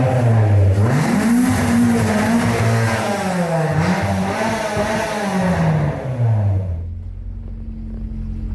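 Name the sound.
old Integra sedan engine revving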